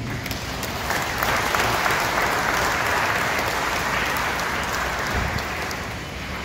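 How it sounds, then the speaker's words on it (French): A congregation applauds during a solemn Catholic mass in honour of Saint Louis, a dense, steady wash of many hands clapping that swells slightly and then eases off over several seconds. "Je vous prie de les applaudir."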